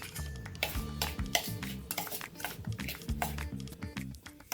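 Curd is stirred into semolina batter for rava dhokla, a spoon scraping and clinking rhythmically against a bowl in quick repeated strokes, close and fairly soft, with a low background hum.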